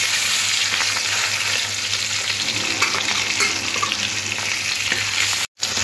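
Katla fish pieces frying in hot oil in a pan, a steady close crackling sizzle with occasional stirring and spatula scrapes, no voices.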